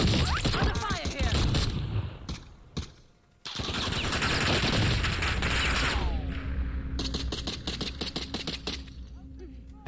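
Gunfire in Call of Duty Warzone, with rapid automatic bursts and rattling shots, close and dense, amid mechanical game effects and a voice speaking at times.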